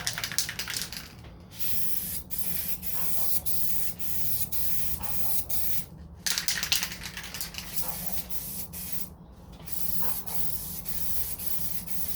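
Paint is sprayed in the second coat onto a 1969 Corvette C3 fender flare, a loud close hiss in bursts with brief gaps between passes and light clicking of the spray trigger.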